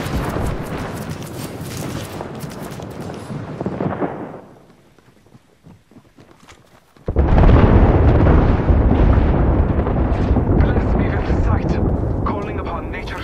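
Airstrike explosions in the Apex Legends video game rumble loudly, drop into a brief near-silence and then return as a heavy, sustained roar of blasts, with a voice talking over the first part.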